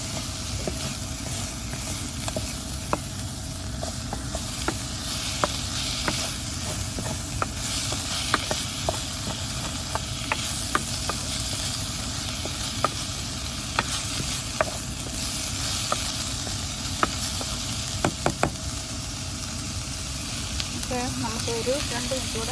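Drumstick leaves thoran frying in a pan, a continuous close sizzle with scattered sharp clicks and scrapes as the mixture is turned over, running steadily for over twenty seconds.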